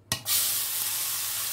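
Green pea paste hits a hot kadai with a sudden loud sizzle, then settles into a steady, close frying hiss that runs on unbroken with no voices.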